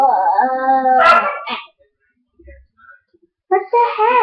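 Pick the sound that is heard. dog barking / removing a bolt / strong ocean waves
dog barking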